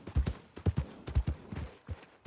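Horse hooves clip-clop in the video game Red Dead Redemption 2, a close, uneven series of heavy thuds in quick pairs as the animal walks, with no talking.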